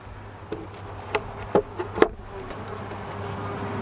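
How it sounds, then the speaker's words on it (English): Honey bees humming around an open hive during an inspection, a continuous close drone with a few louder buzzing passes and bumps in the first half. "there are plenty of bees in here"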